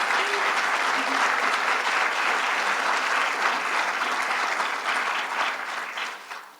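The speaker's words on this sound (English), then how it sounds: "Let's give Glenn and MoMA a round of applause." An audience applauds at a public art installation event in New York, a continuous broadband wash of clapping held steady for several seconds before fading out.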